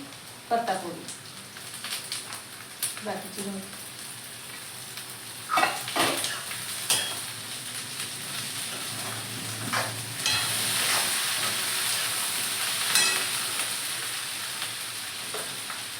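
Capsicum sizzling and being stirred in a hot pan for homemade noodles, a continuous frying hiss broken by repeated scraping spatula strokes, close and fairly loud.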